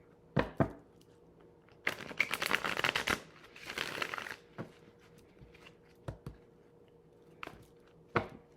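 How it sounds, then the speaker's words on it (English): Tarot cards are shuffled in two riffling bursts, crisp and close, with scattered taps and card snaps before and after. "Let me give another shuffle here."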